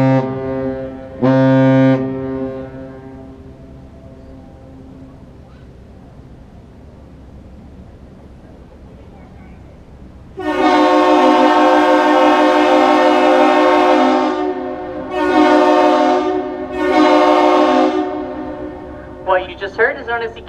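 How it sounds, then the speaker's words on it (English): Ship's horn on the Great Lakes freighter Arthur M. Anderson sounding a captain's salute: one long deep blast followed by two shorter blasts, loud and harmonic-rich, after a brief earlier toot and quiet background. "It is one long and two short blasts of the horn."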